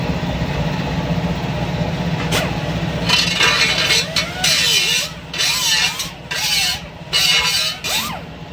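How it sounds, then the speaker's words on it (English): An angle grinder works on exhaust pipe during a straight pipe install on a 6.0 engine, loud and close, whining in bursts with a rising and falling pitch as it bites, over a steady low rumble. "Grinder. Grind it real quick."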